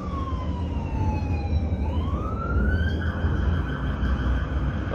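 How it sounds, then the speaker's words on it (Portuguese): An emergency vehicle siren wails and sweeps up and down as it passes close by over steady traffic rumble, loud and clear with no voices. "passando a sirene"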